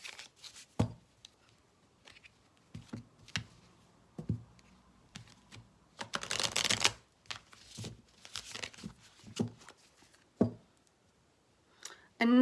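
A deck of tarot cards is shuffled by hand, giving irregular close riffles, taps and papery rustles separated by pauses, with one longer, denser burst of shuffling partway through and no speech.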